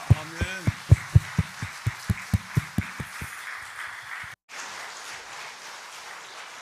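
A worship congregation claps in steady unison, about a dozen sharp, evenly spaced claps over a few seconds, then the clapping gives way to a softer, diffuse room noise after a brief dropout.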